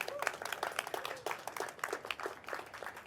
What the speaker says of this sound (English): So please give her a round of applause as well.